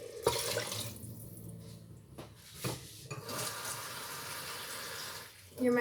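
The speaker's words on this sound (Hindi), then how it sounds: "मैं इसमें एक प्याली पानी डालूंगी।" Water poured from a cup into a cooking pot of lobia masala gives a steady liquid splashing and running sound, close by, with some clatter of kitchenware at the start and end.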